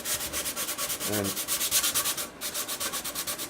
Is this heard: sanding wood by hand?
yes